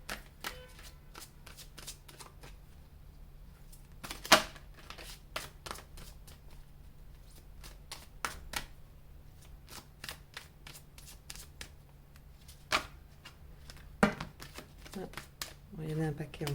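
Tarot cards riffle and snap in repeated quick bursts, crisp and close, with a few louder slaps as cards drop, over a quiet background with occasional soft voice.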